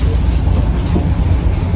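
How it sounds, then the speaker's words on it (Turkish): Interior of a moving tram in Istanbul heading to the bus station, a loud steady low rumble and rolling noise filling the space without pause. "Şimdi biz tramvaya bindik, otogara gidiyoruz."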